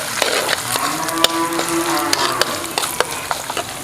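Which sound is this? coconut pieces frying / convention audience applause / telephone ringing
coconut pieces frying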